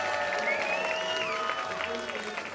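A crowd at an FTC Benelux robotics championship division in The Hague cheers and applauds for team Flying Dutchman, a steady loud wash of voices and clapping with a commentator talking over it.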